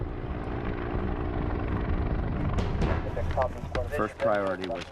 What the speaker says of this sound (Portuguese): Quando o helicóptero voltou ao chão